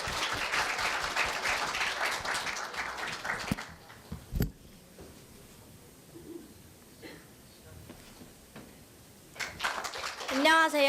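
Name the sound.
audience applause welcoming a speaker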